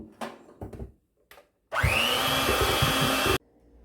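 An electric mixer whirs at steady speed for about a second and a half, working flour into peanut butter banana loaf batter, after a few short knocks and clatters; no talking.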